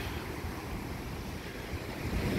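Surf at Richardson Beach in Hilo, Hawaii, roars at night as a constant dense wash of waves, steady and fairly loud, with wind buffeting the microphone.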